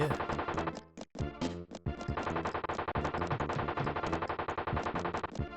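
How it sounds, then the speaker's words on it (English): Rapid bursts of gunfire from Mr. Burns in the Simpsons game Bart's Nightmare, loud chiptune-style shots over busy game music, with a couple of brief breaks. "Mr. Burns, Mr. Stupid Burns, please stop shooting me"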